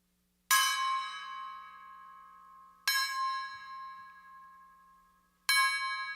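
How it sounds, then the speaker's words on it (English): Three loud bell strikes warning of a city evacuation in a radio play, spaced a few seconds apart, each ringing out and slowly decaying against a quiet low hum. "The bells you hear are ringing to warn the people to evacuate the city"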